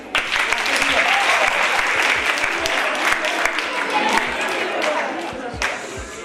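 Loud audience applause at a Casaleone anniversary event, a dense burst of many hands clapping close by for about six seconds before it tapers off at the end.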